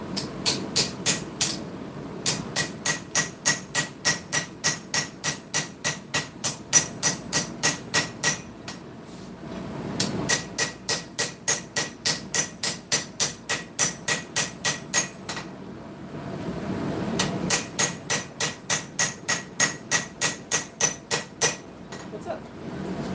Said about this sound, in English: Now we're just going to go through and planish the blade.